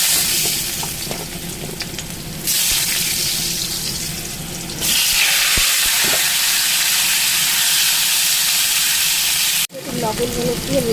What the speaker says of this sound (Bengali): লবণ হলুদ দিয়ে লাল লাল করে ভেজে নেব